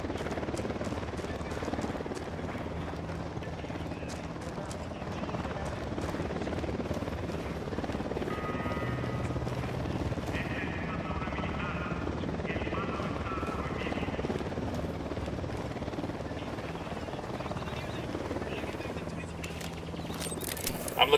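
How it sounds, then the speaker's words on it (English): A helicopter in the Ghost Recon Wildlands video game drones continuously with a steady rotor thrum, moderately loud throughout, with faint game effects and occasional clicks layered over it. "Chopper inbound."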